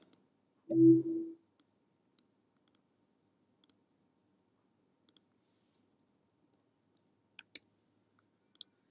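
Computer mouse clicking while setting up album cover documents in Adobe Photoshop: about a dozen sharp, isolated clicks spread at irregular intervals, some in quick pairs, with one short low thump near the start and otherwise quiet.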